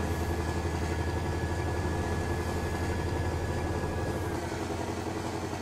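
A Scania 143 M truck engine from a Euro Truck Simulator 2 mod runs at a steady idle, a constant low droning rumble with no change in pace.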